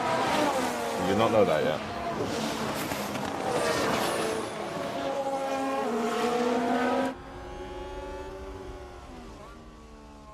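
Formula 1 cars on lap 1 of a night race in Singapore in F1 Manager 22, a blend of engine whine and revving under a voice that fades to a quieter drone near the end.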